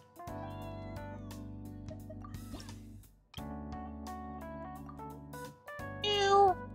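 A cat meows in the Genshin Impact card game Genius Invokation TCG, a single high, clear call near the end over a steady electronic game background hum.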